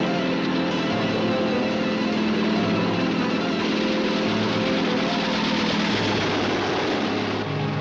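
A cartoon helicopter's steady dense engine and rotor roar fills the whole stretch at constant loudness, with no talking.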